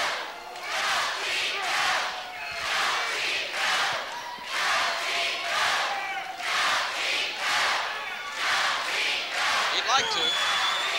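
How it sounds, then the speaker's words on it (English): A pro wrestling arena crowd chants and cheers in rhythmic, pulsing waves, loud and continuous, as a match with Chief Strongbow goes on. "And the crowd picks it up."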